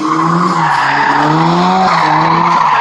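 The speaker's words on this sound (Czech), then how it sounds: "Sledujte velmi pozorně, protože na trati jíždí další vůz" Drift racing car skidding on a track at Sosnová, a loud sustained tire squeal with wavering pitch as the engine note rises and falls, close and continuous for nearly three seconds, no talk.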